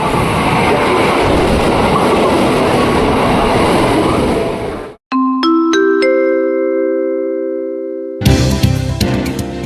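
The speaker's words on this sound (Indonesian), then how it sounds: "Dan ada komuter lain tujuan stasiun Jakarta Kota." KRL Commuter Line electric train at Tebet station in Jakarta: a loud, close rumble and rattle of passing carriages, broken by a clear multi-note station chime before the train noise resumes.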